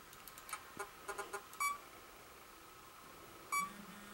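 Two short electronic alert beeps from a phone receiving text messages, each a bright double-tone chirp about two seconds apart, heard over faint game music and quiet room noise.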